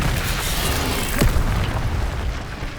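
Casting the Expelliarmus spell in Hogwarts Legacy produces a sudden booming burst that flares midway through a dense, continuous roar of game effects.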